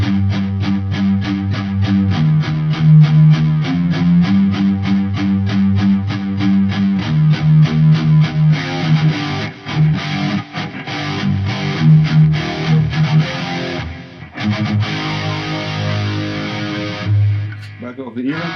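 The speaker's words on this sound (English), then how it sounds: "Okay, let's add a little bit of eventide." Distorted instrumental line run through an Eventide effects unit, with steady rhythmic chopping and swirling modulation across a loud, continuous texture that thins out near the end.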